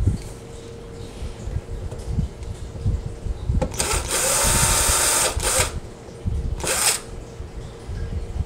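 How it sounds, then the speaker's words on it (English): A power drill bores pilot holes inside an under-sink cabinet for an undermount sink detached from granite, with one long whirring burst followed by a second short burst near the end. "Pilot holes may not be entirely necessary, but rarely hurts."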